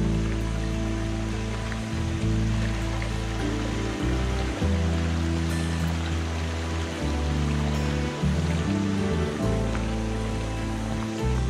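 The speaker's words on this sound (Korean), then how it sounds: "지금 왼쪽에는 물이 흐르고 있고요." Water flows steadily through a forest stream beside a pine-forest campsite on a mountainside, a continuous close rushing wash with no breaks and no talk.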